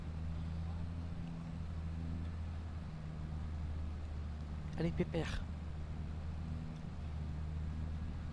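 A tractor engine labours in Farming Simulator 25, a steady low drone running throughout beneath a man's spoken encouragement.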